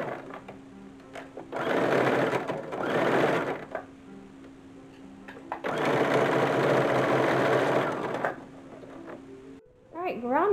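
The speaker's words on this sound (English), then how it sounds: "I'm going to sew down the center of each seam and then a boning's width to the right and to the left on each seam" Sewing machine stitching corset boning channels, two long runs of fast, steady needle clatter separated by a pause with a quieter mechanical hum and a brief voice near the end.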